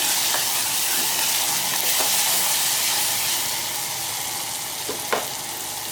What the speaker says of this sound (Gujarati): અને હવે આપણે 1 મિનિટ સુધી આમ જ સંતળવા દઈએ.